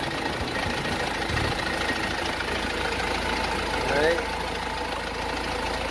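A Hyundai Đô Thành IZ65 truck engine idling with a steady low rumble, heard close up beneath someone speaking, with a faint rattle near the end.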